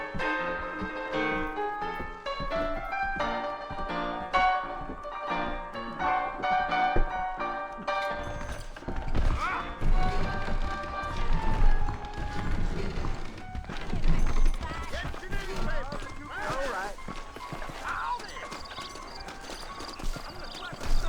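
Horse hooves clip-clopping in Red Dead Redemption, a steady rhythmic trot at first, then heavier, busier hoofbeats mixed with music and game noise as horses set off on the trail.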